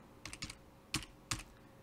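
Keys on a computer keyboard are struck five times in quick, uneven succession, close and crisp, with no voices.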